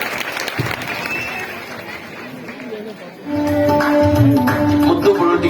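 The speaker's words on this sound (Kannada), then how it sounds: "ಜೋರಾಗಿ ಒಂದು ಸಲ ಅವರಿಗೆ ಚಪ್ಪಾಳೆ" A crowd at a religious gathering applauds the volunteers who served the community meal, scattered clapping and chatter at first, then swelling louder after about three seconds, with a tonal sound rising alongside.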